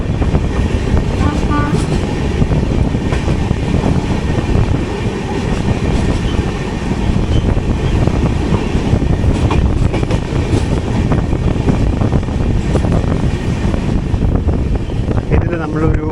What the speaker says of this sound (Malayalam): മഡ്ഗാവ് CSMT മാണ്ഡവി എക്സ്പ്രസ് ആണ്.